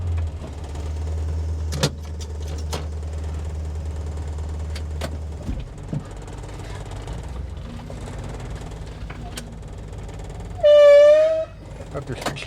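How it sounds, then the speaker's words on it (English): A 1960 Plymouth Fury's brakes give one loud, high, wavering squeal lasting under a second near the end, after a stretch of low rumble and faint knocks. "Have to excuse the squeaky brakes."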